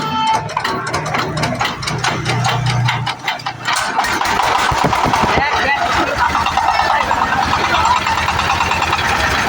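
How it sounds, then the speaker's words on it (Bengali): An ACI power tiller engine cranks and fires into a loud, rapid mechanical chatter, then runs steadily close by, with a voice talking over it. "এই মুহূর্তে গাড়িটি স্টার্ট করা হচ্ছে।"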